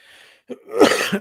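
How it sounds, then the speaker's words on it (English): A short cough, a faint throat sound followed by one harsh, close burst, heard alone. "I still have a slight cough"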